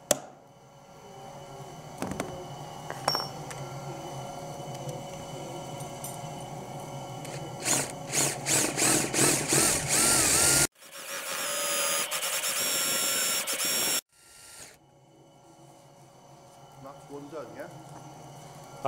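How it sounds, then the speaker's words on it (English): An electric drill whines in a few short bursts, then a longer high-pitched run, drilling out screw heads in an old wooden butcher's block, with people talking in between and over it nearby. "get the drill down there as neatly as I can without chewing up too much of the wood"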